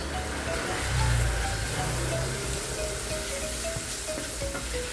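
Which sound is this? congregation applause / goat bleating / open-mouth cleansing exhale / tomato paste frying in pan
tomato paste frying in pan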